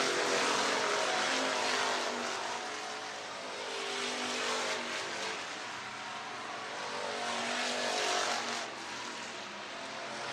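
IMCA race cars roar around the Kossuth County Speedway dirt track in Algona, Iowa, with a dense, sustained engine drone that swells and fades as the pack passes.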